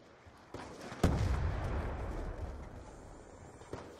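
Gunfire in a Call of Duty Black Ops 2 online free-for-all match on the Studio map: a sharp shot followed by a dense burst of rumbling blasts, then a second fainter shot near the end, all at moderate loudness with no talk.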